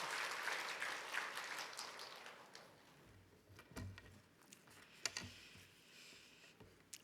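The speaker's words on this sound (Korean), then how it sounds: "우리 박수로 환영하도록 하겠습니다." A church congregation at a Sunday worship service claps in welcome for a visiting missionary, a fairly quiet spread of hand claps that is fuller at first and thins into scattered, uneven claps toward the end.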